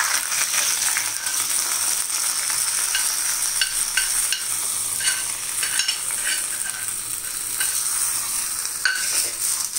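Hot tadka tempering poured into rasam, a continuous sizzle and crackle with brief stirring scrapes, close and steady throughout with no voices.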